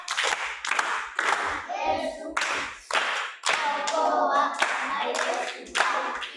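An audience of children claps hands together in a classroom at a school gathering, bursts of clapping recurring across the clip with some young voices talking between rounds.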